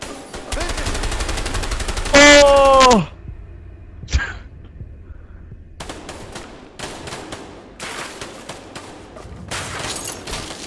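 Rapid gunfire in the video game A Way Out rattles in bursts, a long fast volley at the start, then scattered sharp shots and later clusters of fire, mixed with game effects and a short whooping tone.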